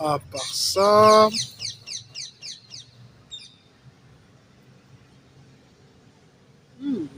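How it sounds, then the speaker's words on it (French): A parakeet gives a burst of loud chirps and a short warbling call, followed by a run of quick rhythmic tweets that fade into quiet, with another brief call near the end. "perruche, on dirait."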